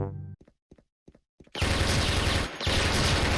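Video game gunfire from an AUG rifle in a shooter: a few sharp single shots spaced apart, then a loud, sustained burst of rapid automatic fire that briefly cuts out and resumes.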